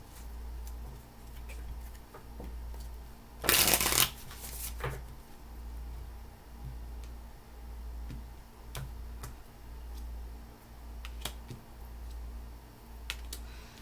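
Tarot cards being shuffled by hand during a reading, soft rhythmic riffling with a louder crisp burst early on and scattered light taps, faint and close over a low background hum, no talking.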